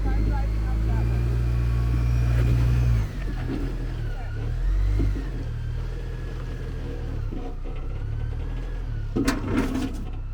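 A 2023 Chevrolet Colorado ZR2 pickup crawls over slickrock on the Hell's Revenge off-road trail, its engine a steady low rumble that swells and eases over about ten seconds, with people talking over it throughout.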